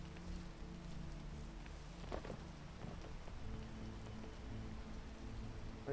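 Light rain patters steadily on outdoor surfaces, faint and even throughout, with a few slightly sharper drops and no voices.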